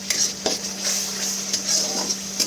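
Cashew paste being stirred into fish curry spices in a pan for bhetki kalia, steady scraping and stirring with light clinks of a spoon against the metal, close and continuous.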